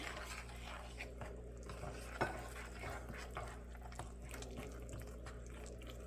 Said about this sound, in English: we're going to stir this together till it's combined.